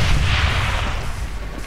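Heavy booming gunfire in the video game Extermination Day, a Brutal Doom survival horror mod, loud and close, with deep thumping blasts rolling continuously.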